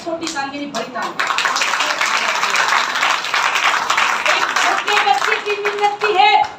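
An audience claps at a Christian preaching service, a sustained round of loud applause that swells and lingers beneath a preacher's voice.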